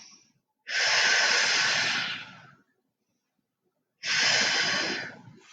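Two long, slow breaths during a gentle mat pilates stretch, each a loud airy rush lasting about two seconds, with a quiet pause between them and no talking.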